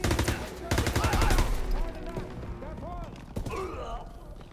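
Bursts of machine gun fire sweep a Normandy beach on D-Day in Call of Duty WWII, two sustained volleys close together, then scattered shots and thuds over the battle noise while voices call out in the background.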